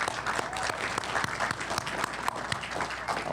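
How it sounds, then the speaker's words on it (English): Steady applause from the audience at an electrical lineworker program graduation ceremony, many hands clapping continuously at moderate distance in a large room, with no talking over it. "So please give him a round of applause."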